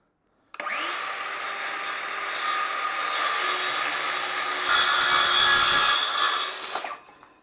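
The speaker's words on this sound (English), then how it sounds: "I can hold the square tight to the timber and then make the cut" A hand saw cuts through a timber garden sleeper, one long continuous rasping cut that grows louder and fuller before stopping abruptly, close and with no voice over it.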